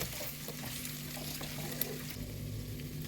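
Meat and tomatoes fry in oil, producing a soft, continuous sizzle and crackle at low volume with a faint low hum beneath.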